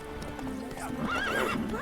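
Roach, Geralt's horse in The Witcher 3, clip-clops along and gives a short whinny, with a faint voice in the background.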